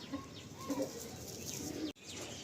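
Breeder pair of pigeons kept for flying, cooing softly nearby in a few low, rounded calls with faint chirps and background rustle.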